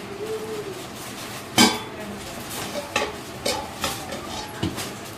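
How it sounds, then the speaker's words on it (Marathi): Sabudana khichdi stirred in a pan, a spoon scraping and knocking against the metal in several separate strokes with a faint sizzle underneath, close and fairly clear with no voices. "आणि मी पुन्हा एकदा परतवते."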